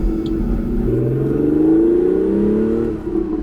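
A 1985 Porsche 930 engine revs up from a steady idle, its pitch climbing in a smooth sweep before easing off near the end, moderately loud and heard without talk.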